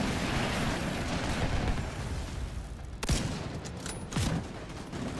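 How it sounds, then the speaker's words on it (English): Mortar fire in the video game The Division 2, a rumbling barrage under heavy battle noise, with two sharp, loud blasts standing out near the end. "Mortar."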